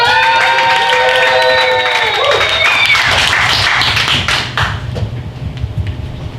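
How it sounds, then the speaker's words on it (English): Audience applause and cheering at a live comedy roast battle show, a broad wash of clapping and crowd noise that swells, then thins out toward the end, with voices mixed in. "Give us a round of applause"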